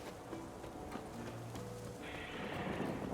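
Warhorse in Witcher 3, a purebred Kedwenny, with clip-clopping hooves and a whinny over faint rain-like ambience, moderately close and without talking.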